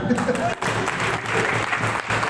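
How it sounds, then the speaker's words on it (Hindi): An audience at a program bursts into loud, sustained applause, many hands clapping close and dense with a brief dip partway through, crowd murmur mixed in. "एक बार उनके जोरदार तालियां"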